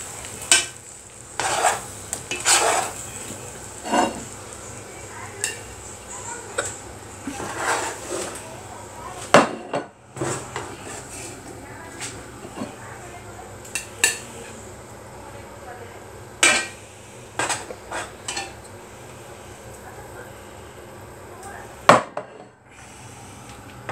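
Spoonfuls of biryani being dished out with a serving spoon, a string of sharp scraping clinks and scoops of rice against the pot, close and fairly loud, spaced irregularly over a low steady room hum, with no talk.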